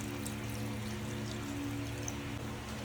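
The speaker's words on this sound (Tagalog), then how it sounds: "Dagdagan natin ng tubig." Water pours steadily into a cooking pot of pork adobo with balikutsa, a continuous close splashing wash over a low steady hum, with no talking.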